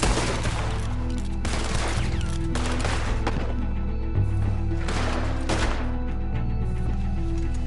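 Gunfire in Red Dead Redemption 2: loud repeated shots and volleys in a rapid, irregular barrage over a constant game backdrop, with no speech.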